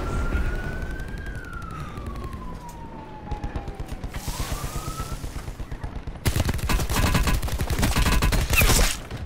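Peacekeeper submachine gun firing in Call of Duty Black Ops 4, with a rapid run of loud, dense automatic shots in the last few seconds, preceded by a rising and falling siren-like tone and game noise.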